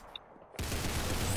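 Gunfire in the video game Arsenal: after a quiet moment a dense, loud burst of shots erupts and sustains to the end, with no talking.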